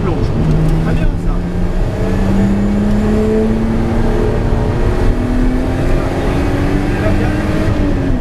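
A motorboat engine throttles up, its drone climbing steadily in pitch over several seconds as it accelerates, loud and close, with water rush and a voice partly over it.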